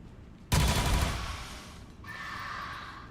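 Gunfire from soldiers in XCOM 2: a sudden loud burst of rapid shots lands after a quiet start, rings out and decays, then a steadier tonal mechanical hum carries on to the end.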